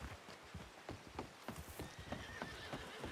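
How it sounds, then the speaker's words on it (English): Horse in the Red Dead Redemption 2 video game, hooves clip-clopping in a steady trotting rhythm, with a whinnying neigh rising over the hoofbeats near the end. "I just got my mangy horse back."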